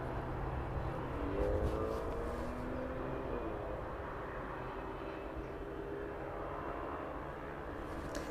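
A Boeing 767 at East Midlands Airport, heard as a steady, broad engine roar that holds fairly evenly throughout, with no talking.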